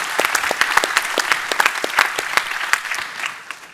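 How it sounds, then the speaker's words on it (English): Sustained applause from a panel-discussion audience, dense overlapping clapping at a steady level for the whole stretch, with no talk over it. "So can I please get a round of applause for my team?"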